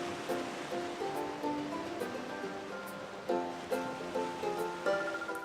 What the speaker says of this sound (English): Look, it's the sea.